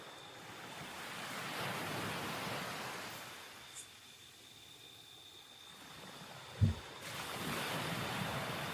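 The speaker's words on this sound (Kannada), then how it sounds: "ಕೇಳಿಸ್ತಿರ್ಬೋದು ನೀರು ಸೌಂಡು" Water rushing outdoors, heard as a continuous broad hiss that softens in the middle and swells again, fairly distant, with one brief knock near the end and no voices.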